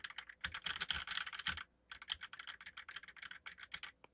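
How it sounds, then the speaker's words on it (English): Rapid, uneven clatter of keys typed on a computer keyboard, captured up close by a Shure MV6 USB dynamic microphone, with a brief pause midway before the typing resumes. "Yeah, it still picks up keyboard noise pretty good."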